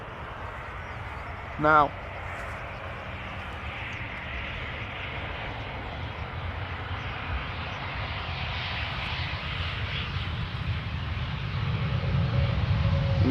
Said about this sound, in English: another German Airways Embraer 190 flying for KLM, arriving from Bristol